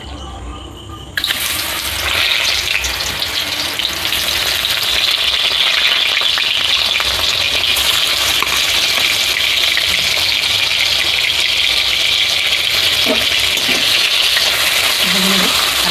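Boiled, squeezed pasta dropped into hot oil in a wok, a sudden burst of loud, dense sizzling that holds steady and close, with a few light clinks of stirring near the end.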